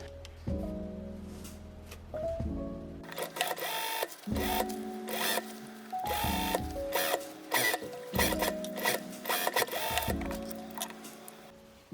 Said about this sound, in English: Sew a stabilizing stitch around the entire cap.